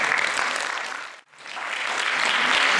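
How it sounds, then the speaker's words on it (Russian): Audience applause for a jazz student band at a concert in a full hall in Rostov-on-Don, a dense wash of clapping that dips briefly to near silence and then swells back loud and steady. "И эти аплодисменты вам."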